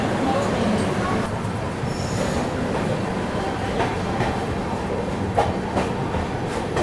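The 12621 Tamil Nadu Superfast Express pulls out of Balharshah station, a continuous rumble of rolling coaches and wheels heard from inside a 2AC carriage with faint squeals and rattles, steady and close.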